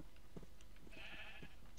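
Sheep in the Minecraft modpack Agrarian Skies 2 let out a single drawn-out, nasal bleat over a quiet game backdrop, followed by a faint high chirp near the end.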